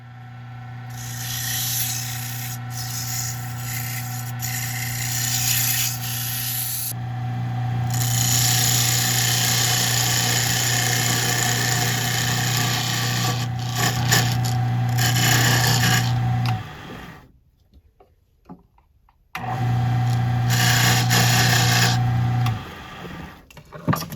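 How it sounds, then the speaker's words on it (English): Sanding a carved wooden Christmas angel figure with inlay face and praying hands: a loud, steady power-sander whine with grinding rasp runs continuously, briefly cuts out, then resumes. "all we need to do now is sand her up"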